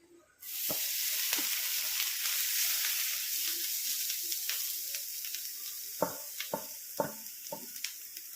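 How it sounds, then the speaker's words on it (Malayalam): Grated coconut drops into a non-stick pan with a little oil and breaks into a sudden bright sizzle that holds steady, with sharp taps and scrapes of stirring growing more frequent near the end. "തേങ്ങ ഇതിനകത്തേക്ക് ഇട്ട് വറുത്തെടുക്കാം"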